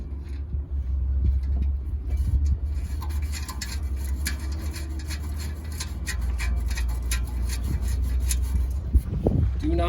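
An O2 delete fitting is threaded into the exhaust of a Honda Foreman Rubicon 500 ATV, with close, steady rubbing and rasping scrapes over a low constant hum.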